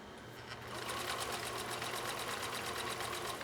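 A 1962 Husqvarna Viking 19E Special sewing machine runs steadily, laying down a modified zigzag stitch in a rapid, even mechanical chatter that builds after a brief start and holds close and clear with no talking.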